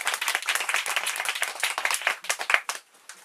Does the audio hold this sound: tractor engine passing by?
no